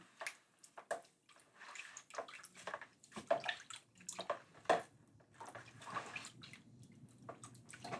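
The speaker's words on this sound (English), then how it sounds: "Basically, we're going to go ahead and whisk it." Jamaican carrot punch mixture is whisked by hand in short, quiet bursts of liquid sloshing and splashing, in an uneven rhythm with brief pauses, close and faint.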